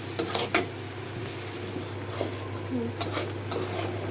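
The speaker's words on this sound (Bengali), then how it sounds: "এখন মশলাটা একটু কষানো হবে, দিয়ে দিচ্ছি একটু লবণ মশলার মধ্যে।" Spice masala with salt is stirred in a pan for a gourd and fish curry, with sharp spoon scrapes and clinks against the metal over a faint low sizzle and a steady background hum.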